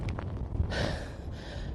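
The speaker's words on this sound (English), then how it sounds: "No, it's too windy." Wind buffets a microphone outdoors on a hilltop overlooking Stirling Old Town and the castle, a steady low rumble with broadband gusts swelling midway, no voices heard.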